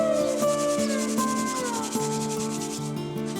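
Dry kale seed pods crumbled between the hands, a steady dry rustling and rubbing up close. Faint tonal overtones run beneath it, with no voices.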